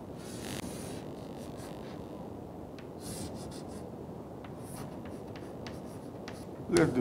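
Marker or chalk scratching across a board while a graph is drawn, soft intermittent strokes and taps over a quiet room hum, with a brief louder knock near the end.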